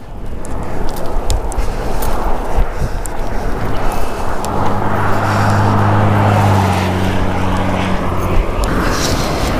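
Cars speeding along an open road heard from a cyclist's position, a loud steady rush of traffic with wind buffeting the microphone and a rising, droning engine pass in the middle.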